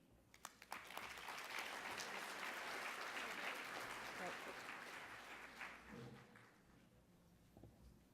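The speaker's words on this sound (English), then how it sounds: "Another round of applause for Louise and the farmers" Conference audience claps after a healthcare talk, a full burst of applause that swells quickly, holds, then tapers off with scattered claps near the end.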